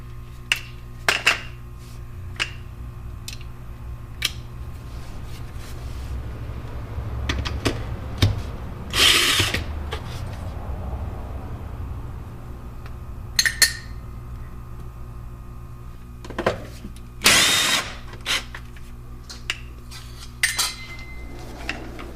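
Bolts come off the propeller shaft cover of a BMW E39 M5 in a quiet garage, with sparse metallic clinks and taps and a few louder bursts of ratcheting and handling noise.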